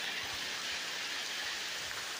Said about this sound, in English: Got stuck in the rainstorm.